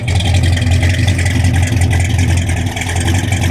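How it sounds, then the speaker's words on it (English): A 1967 AMC Marlin with dual exhaust and a swapped-in V8 replacing its original 232 six-cylinder idles steadily nearby, a deep, continuous rumble with a low throb that holds level throughout, with no talking. "Got the dual exhaust."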